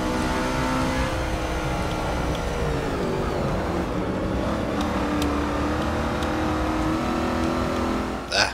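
NASCAR stock car racing in Forza Motorsport 6, its engine droning steadily and close throughout, pitch rising and falling with revs, then a short sharp burst right at the end.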